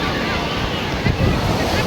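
Loud, continuous roar of rough sea waves washing onto the beach at Puri, with heavy wind buffeting the microphone throughout.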